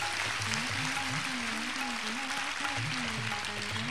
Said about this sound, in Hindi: यदि हैं तो ताली बजाइए।